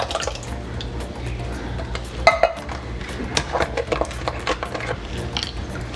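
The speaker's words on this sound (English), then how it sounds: "So now I'm literally just going to add all of the ingredients to my pan." Dry quinoa and canned diced tomatoes tipped into a pan, giving soft wet plops, light patters and a few clinks of metal cookware, close and moderately loud over a faint background hiss.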